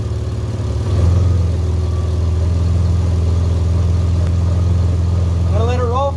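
The engine of a 2006-2011 BMW 328i idles steadily while the car rolls slowly in drive during a transmission fluid and filter change, a close low hum that swells slightly after a second, with someone speaking briefly near the end.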